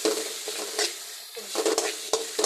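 Onion, green chili, garlic and chopped shrimp fry in oil in a wok, bursts of loud close sizzling alternating with scraping stirs and brief quieter gaps, no talking.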